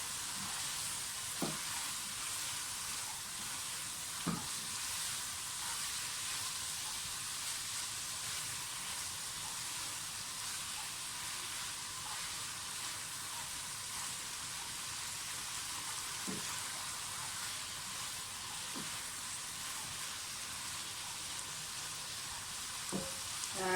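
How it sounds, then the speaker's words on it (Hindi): Onions sauté in a pan with vegetables for chicken spaghetti, giving a faint, continuous sizzle and crackle with a few soft stirring knocks, no talk. "अनियंस को भी थोड़ा सा सौते कर लें साथ।"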